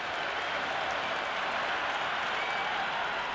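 Stadium crowd in the Cricket 26 video game roars and applauds continuously during an India vs South Africa Test match, a dense, steady wash of cheering and clapping with no clear pauses.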